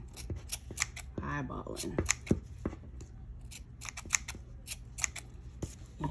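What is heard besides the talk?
scissors cutting yarn pom pom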